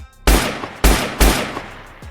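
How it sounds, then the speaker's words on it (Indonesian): Three sharp, loud gunshots from a masked intruder's gun ring out in quick succession, each with a short decaying tail, followed by a faint ringing clink. "Kemudian orang itu menembak mereka bertiga."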